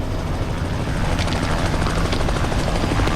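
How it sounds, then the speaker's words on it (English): A helicopter hovers close overhead during a winching, its rotor wash and engine forming a loud, steady roar without talk. "The helicopter, where's it going to land?"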